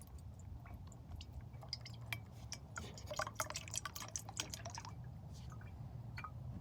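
Coconut water drips from a freshly cut coconut at a camp, a faint series of small irregular drips and trickles that cluster densely for a few seconds before thinning out.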